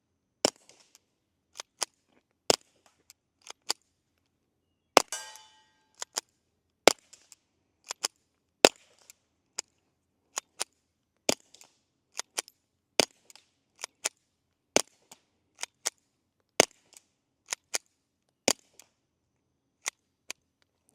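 A suppressed Ruger Mark IV 22/45 Lite pistol fires many sharp, quiet pops spaced a second or two apart, each followed by faint mechanical clicks of racking and handling, with near silence between shots.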